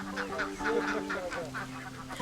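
Ducks on a duck farm in a riverside village in Madagascar, a dense flock calling together in repeated nasal honks and quacks, close and steady throughout with no voices.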